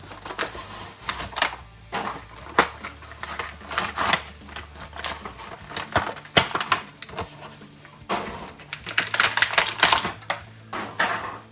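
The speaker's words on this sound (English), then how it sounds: "So let's get her out of the packaging." Mattel WWE Ultimate Edition action figure being pulled from its packaging, a close series of irregular plastic clicks, snaps and crinkles in bursts with brief pauses between.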